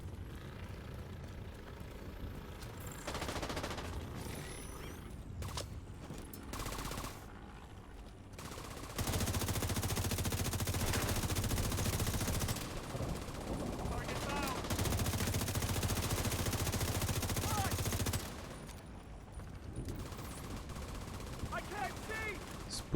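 Gunfire in the video game The Division 2 during a Financial District bounty mission, dense sustained automatic bursts and rattling shots over a rumbling background, loudest in the middle stretch, with voices speaking at times.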